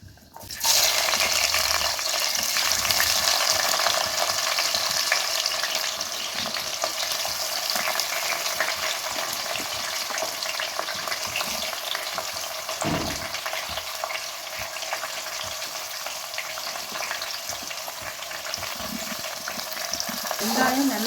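Onions fry in hot oil for a Seeraga samba chicken biryani made in a home kitchen. A steady, close sizzle runs throughout, with occasional scraping stirs and a thump midway.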